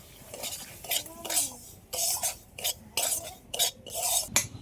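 Semolina frying in ghee in a wok, heard as a series of scraping, clinking stirs of a metal spoon against the pan in irregular bursts, with a faint sizzle between strokes.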